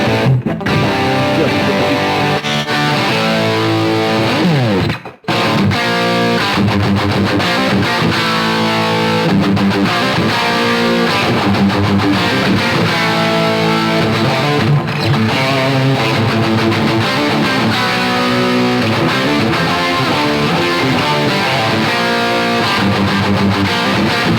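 An electric guitar plays a riff through a UAFX Lion amp pedal with distortion, loud and continuous for over twenty seconds, with a brief sharp dropout near five seconds.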